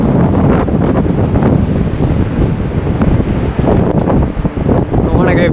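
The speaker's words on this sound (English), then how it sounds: "Look at these waves." Ocean waves break and wash along the shore while strong wind buffets the microphone in loud, continuous gusts.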